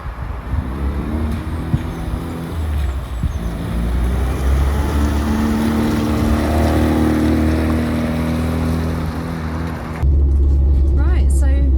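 A classic Austin 1300 GT car engine drones and rises as it is driven and shifted through the gears, heard from inside the cabin with road noise, while someone talks over it.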